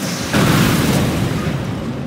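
A bombing-run explosion in the Command & Conquer 3: Tiberium Wars strategy game, a sudden loud, dense rumbling blast that holds and rolls on steadily to the end.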